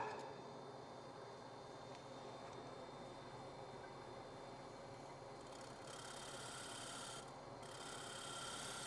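A wood lathe runs while a winged bowl is turned, a faint steady whir and rasp with brief brighter scraping bursts near the end, and no voices.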